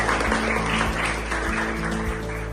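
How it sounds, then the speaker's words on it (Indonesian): Children and parents at a school event clap for a physics competition winner, a steady mid-level patter of hands that carries on evenly with a low hum underneath and no voices standing out. "Beri tepuk tangan."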